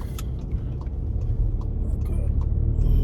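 A Volkswagen Golf R fitted with H&R lowering springs drives through city streets, with a steady low engine and road rumble from inside the car and a few faint clicks and light rattles on top.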